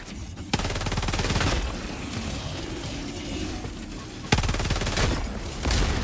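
Rapid automatic gunfire from a weapon in Helldivers 2, loud and dense bursts with sharp booms near the start and past the midpoint, carrying on almost without pause.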